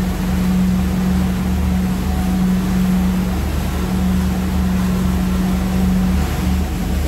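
Boat engines running at a steady, even drone on open Gulf water, close and continuous with wash and wind noise and no talking.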